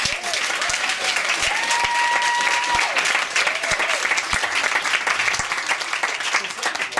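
Comedy club audience in Munich bursts into sustained applause and cheering at a stand-up show, steady clapping filling the room with a few whoops and voices mixed in throughout.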